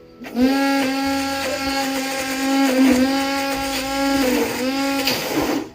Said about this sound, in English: So we'll keep blending until everything is smoothened out.